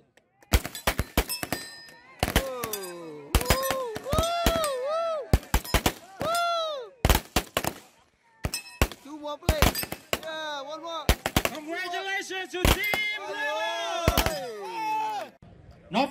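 Rapid, irregular gunshots crack repeatedly at close range at a military shooting competition, some in quick bursts, with voices calling out between the shots.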